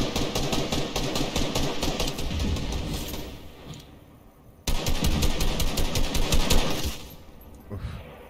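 Rapid automatic gunfire from the video game Fortnite rattles in dense, loud bursts, easing off around the middle, then cutting back in sharply for another sustained volley.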